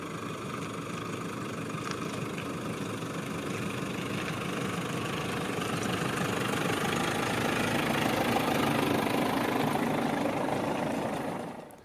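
A Nissan Navara NP300 pickup's 2.3-litre diesel engine idles steadily with a clattering, knocking diesel rhythm, heard close and alone, swelling slightly before cutting off at the end.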